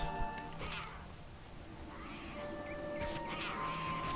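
Blue cat creatures in the game Titan Quest let out a few drawn-out, caterwauling meows, fairly faint, over low combat ambience with no one talking.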